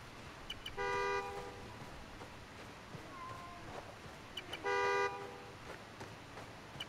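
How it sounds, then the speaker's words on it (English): Two loud, blaring car-horn honks sound in the Spider-Man Miles Morales video game on the Upper West Side, each held about half a second and spaced a few seconds apart over faint street ambience. "The more annoying the horn gets,"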